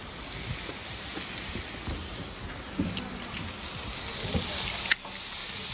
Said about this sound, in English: We're just getting a sear on it, guys.